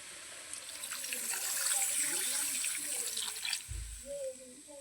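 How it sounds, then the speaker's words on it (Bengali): Hot water poured steadily into a pot of curry makes a continuous splashing gush for several seconds, ending with a soft thump. "সেই গরম জলটা দিয়ে দেবো"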